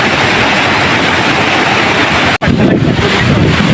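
Hulugan Falls in Luisiana, a loud, broad roar of rushing water, close and constant, with a brief dropout partway through.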